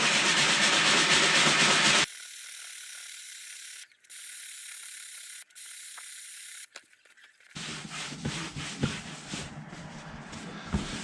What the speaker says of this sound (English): I'm just going to use strong leather cleaner and a brush, and I will start to scrub it